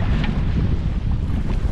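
A wind gust buffets the microphone while sailing a 29er dinghy, a loud, steady low roar with water rushing beneath it and no voices.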